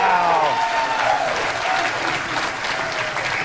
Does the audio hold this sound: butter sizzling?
no